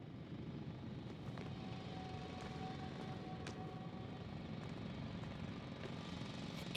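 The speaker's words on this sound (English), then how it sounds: "It's a drill." A drill in the sci-fi video game The Invincible roars as a loud, continuous grinding drone with a faint steady whine, unbroken throughout.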